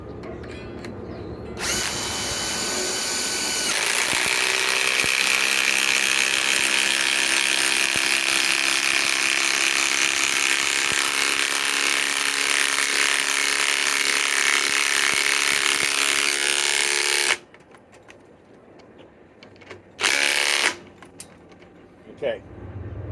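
A Ryobi PSBIW25 compact impact wrench on an 8 amp 21700 cell battery runs loud and steady for about fifteen seconds under a hard load, then cuts out, followed by two short bursts near the end.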